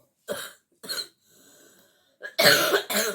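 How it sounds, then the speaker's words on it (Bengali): A person with a heavy cough, standing in a home kitchen while cooking, lets out several harsh close bursts. A quiet stretch of faint breathing follows, then louder, rougher coughs closely spaced at the end. "প্রচন্ড কাশি হয়েছে"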